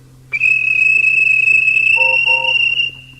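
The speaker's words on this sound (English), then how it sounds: "The guard blew his whistle," A railway guard blows a shrill, steady whistle, one long sustained piercing tone held for nearly three seconds, loud and close, with a faint low hum beneath and a brief second tone near the end.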